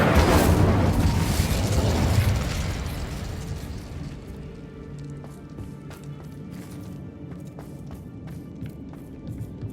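A fiery Incendio spell cast in Hogwarts Legacy erupts in a loud whooshing burst that rolls for a couple of seconds, then fades into quieter crackles and scattered small pops.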